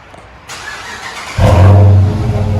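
A Dodge Charger R/T with a 5.7L HEMI V8 and straight pipes barks to life after a quiet moment, then rumbles loud and deep as it pulls away nearby.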